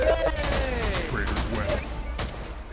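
Gunfire rings out in the VR game Palov: a burst of close, loud shots packed together in the opening seconds, then a louder crack near the end, all heard over players talking.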